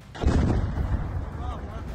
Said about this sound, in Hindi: चाय बनाने के समय अचानक बिल्डिंग के पीछे एक भयानक विस्फोट हुआ।